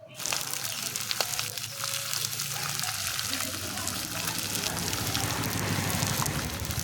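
Taro roots (kochur mukhi) frying in a pan for a bhetki fish dish, a steady close sizzle running throughout with occasional scrapes as the pieces are stirred.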